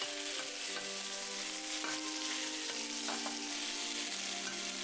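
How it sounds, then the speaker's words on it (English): Marinated beef for Cambodian lok lak sears in hot oil with a dense, continuous sizzle, steady and loud throughout, with faint tonal hum in the background. "the second half of the marinated meat goes in"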